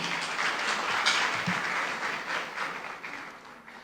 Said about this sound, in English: Another round of applause for Andy.